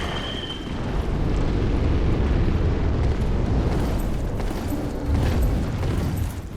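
A fire attack engulfs an enemy in Dark Souls 3, a continuous loud roaring whoosh of flame with rumbling low weight, swelling and holding steady for several seconds without talk.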